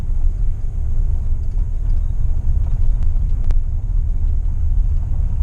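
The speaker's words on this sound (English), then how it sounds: "this is just where this truck is idling" An old pickup truck idles at high revs, a loud, steady low rumble that holds level throughout, with a couple of faint clicks partway through.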